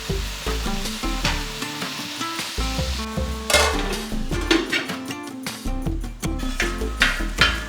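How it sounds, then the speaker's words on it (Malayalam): Tomatoes being mashed and cooked in a pan for a Kerala-style duck curry: a steady sizzle under repeated scraping and stirring strokes, with sharper clanks of utensil on pan toward the end, close and fairly loud, with no talk. "എന്നിട്ട് നല്ലവണ്ണം മാഷ് ചെയ്ത് വേവിച്ചെടുക്കാം."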